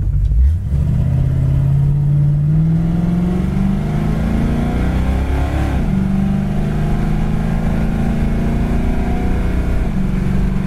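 A 1966 Ford Fairlane XL with a four-barrel carburetor accelerates while driving, its engine note rising steadily, dipping briefly at a gear shift, then climbing again. Loud, close and continuous, with no talk over it.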